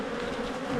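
Honey bees buzz densely around a hive frame in an Australian apiary, a continuous close, loud drone with no gaps and no voices.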